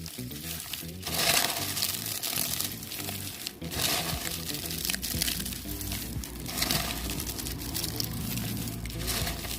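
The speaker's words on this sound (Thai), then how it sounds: "เราจะใช้มือเราขยำเลยครับ เพื่อให้ส่วนผสมทั้งหมดนะครับ เข้ากันได้ดีครับ" Hands knead a peanut shell fertilizer mixture in a container, giving close, continuous crinkling and crunching squelches with irregular louder squeezes.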